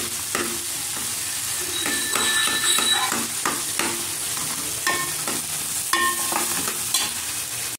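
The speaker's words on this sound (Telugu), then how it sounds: "ఈ ఉల్లిపాయ టమాటా బాగా వేగనివ్వండి" Onions and tomatoes fry in a pan for a curry, a steady sizzle under repeated scraping stirs of a utensil, close and fairly loud, with no talking.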